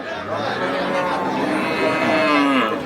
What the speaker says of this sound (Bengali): এই পাশে গাভী এবং বাচ্চা আছে